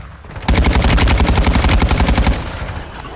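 Rapid automatic gunfire from a video game, a loud sustained burst of evenly spaced shots lasting about two seconds before cutting off, with no talk over it.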